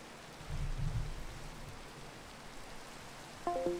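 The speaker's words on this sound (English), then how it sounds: "that beautiful sound of rain" Rain falls in the Minecraft video game as a steady, even hiss, with a soft low rumble early on and a brief tonal blip near the end.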